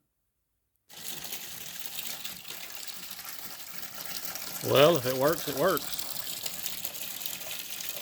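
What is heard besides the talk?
water running through old tractor's engine system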